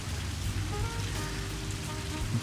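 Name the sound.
rain falling during outdoor training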